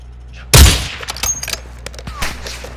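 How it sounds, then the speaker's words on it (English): Gunfire in a Call of Duty video game: one loud, close burst of shots opens, followed by scattered fainter shots and impacts in the game's combat. "You are taking effective fire."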